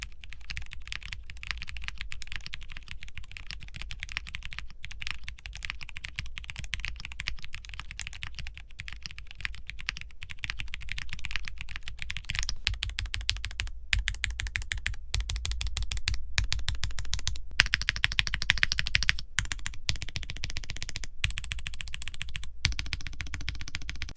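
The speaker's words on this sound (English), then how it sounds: "the black tops on the RGB Red switches, also sound really interesting" Rapid, steady typing on a mechanical keyboard fitted with Cherry MX switches, black top housings on RGB Red bottoms, giving dense close-up clacks with occasional brief pauses.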